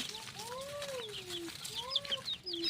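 Chickens cluck and coo nearby, with rising and falling calls repeating over a soft outdoor background.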